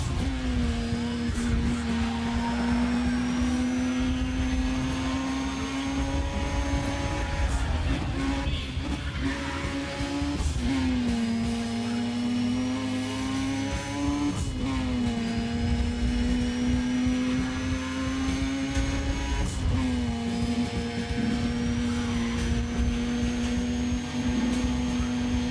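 Turbocharged Wankel rotary engine car racing in Need for Speed ProStreet, a steady high buzzing drone with repeated rising revs and brief dips at gear shifts, continuous and loud with no talking.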